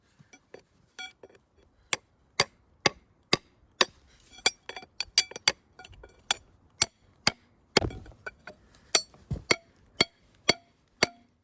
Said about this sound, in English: Let's get the crowbar in there.